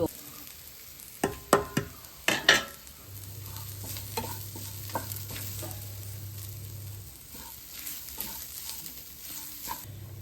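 Masala frying in a pan for a home-style fish curry, with a few sharp scraping stirs early on, then a steady close sizzle and occasional clicks of a spoon against the pan.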